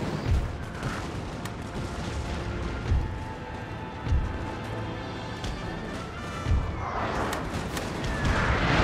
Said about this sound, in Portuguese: Enquanto os canhões estão metendo tiro aqui, ou metendo tiro em mim